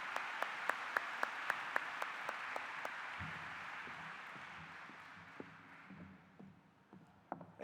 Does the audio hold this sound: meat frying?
no